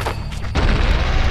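Deku Link drops a bomb in Zelda: Majora's Mask, and it goes off as a single loud, booming blast that starts halfway through and rolls on briefly, with a few quieter game sounds before it.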